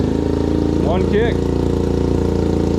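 Kawasaki KFX50 ATV engine idling after a kickstart, a steady close putter with a voice speaking briefly over it.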